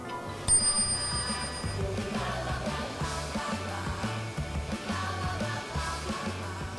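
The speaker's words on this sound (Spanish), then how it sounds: "puedes seleccionarlas con el timbre" A bicycle bell rings sharply once near the start of the clip at an exhibition about cycling routes, its bright tone fading over a second against a busy background with a low rhythmic hum.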